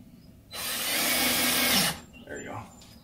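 A power drill drives small screws into a screen door, giving one loud whirring burst of over a second, followed by a fainter rattling handling noise.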